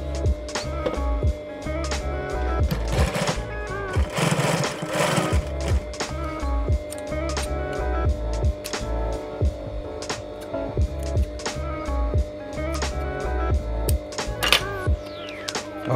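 A sewing machine stitches together the upper waistband seam of a pair of trousers being taken in, running in steady rapid bursts with a brief louder stretch midway, close and clear with no talk.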